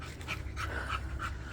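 Puppies panting quickly and steadily as they run around and play, close by in a quiet setting with a faint background hum.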